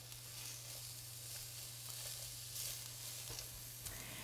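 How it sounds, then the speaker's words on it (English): Onions and peppers sizzle in a hot skillet, a soft, steady, continuous hiss and crackle over a low electrical hum, with no talk. "You hear that fizzling? That means the heat is great."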